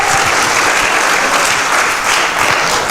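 A church congregation breaks into loud, sustained applause, with dense, steady clapping filling the room throughout.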